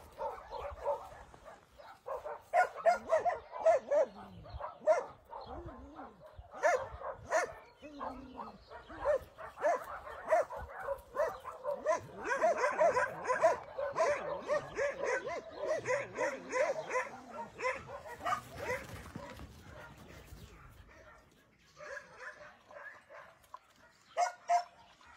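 Several dogs at a shelter play together, yipping, barking and whimpering in busy, overlapping bursts that fade near the end, with a little human talk mixed in.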